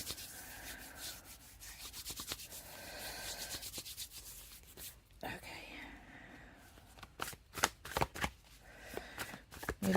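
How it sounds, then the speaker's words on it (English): A deck of playing cards being shuffled close up: repeated papery rustling riffles through the first half, then a cluster of sharp card snaps and flicks near the end, with a voice murmuring underneath. "These cards are not shuffling very easily."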